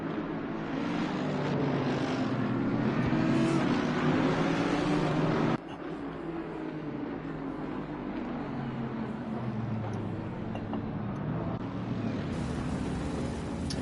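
Race cars in a PS5 racing game roll through a 2x2 formation lap at Zandvoort, a steady, dense engine drone that holds throughout and drops slightly in level about midway.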